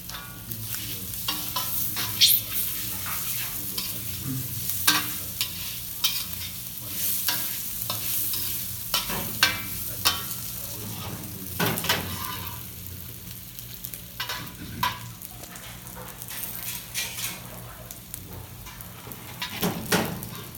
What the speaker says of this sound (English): you just want to stir fry these potatoes for a few minutes